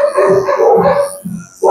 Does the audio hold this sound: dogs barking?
yes